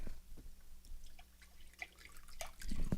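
Reduced sodium chicken broth poured into a soup pot gives soft, scattered splashes and drips, quiet and uneven, swelling into a fuller pour near the end.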